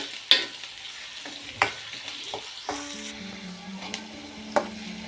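Onions and green chillies frying in oil, a low bubbling sizzle punctuated by several sharp clacks and scrapes of a spatula stirring the pan, with no talking.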